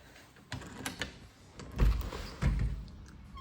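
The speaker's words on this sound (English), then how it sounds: "I'm gonna get ready to open the door for them." A front door opened for arriving visitors at an open house, with a few light taps and clicks, then two heavier thuds as the door is handled, in a quiet room.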